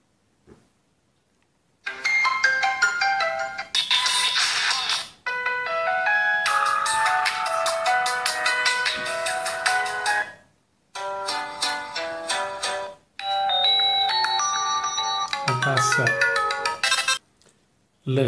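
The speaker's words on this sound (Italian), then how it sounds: "Le suonerie sono davvero tante." A LEAGOO Elite 5 smartphone plays a series of different melodic ringtones, each a bright electronic tune lasting a few seconds, separated by brief silent gaps and heard close and clear.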